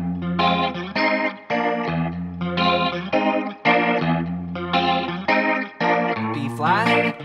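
Electric guitar plays the opening eight bars of Booker T. and the MG's "Green Onions", a 12-bar blues in F with choppy, repeated chord stabs and slides, loud, clear and close, with no talking.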